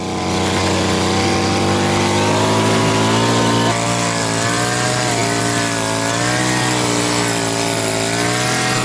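The motor of a DIY boat built from junk runs loud and close, a harsh, buzzing engine drone that holds steady for the whole stretch with slight shifts in pitch, and no voices.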